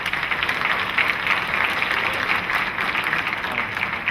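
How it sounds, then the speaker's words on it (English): Applause from a school staff and student awards ceremony audience honoring principals, a steady dense clapping throughout that fills the room evenly with no voices on top. "let's give a round of applause for our principals"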